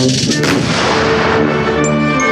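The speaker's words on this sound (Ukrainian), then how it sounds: "традиційні постріли у виконанні військових" Loud military rifle volley booms out in an open space at a Ukrainian memorial ceremony, a blast that rolls and fades away.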